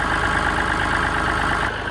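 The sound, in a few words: Massey Ferguson 135 tractor engine idling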